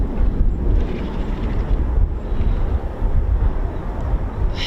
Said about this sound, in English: It's an Emirates flight there.